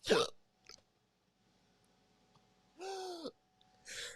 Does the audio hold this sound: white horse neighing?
no